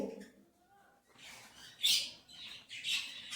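Pet birds in coops squawking at feeding time, shrill bursts rising and falling several times, fairly close, after a brief low voice at the start.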